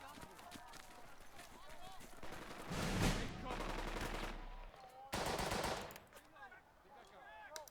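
Machine gun fire in the Burden of Command video game, with two sustained bursts of rapid automatic shots over fainter background gunfire and a running game soundscape.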